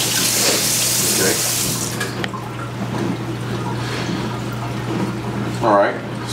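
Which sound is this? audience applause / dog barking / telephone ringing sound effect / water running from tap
water running from tap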